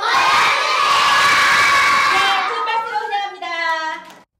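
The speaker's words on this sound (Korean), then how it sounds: "아이들의 뜨거운 환호 속에" Crowd of children at a Korean children's theatre performance cheering and shouting loudly, a dense burst that cuts off after about two and a half seconds, followed by a few high, sustained voices and then silence.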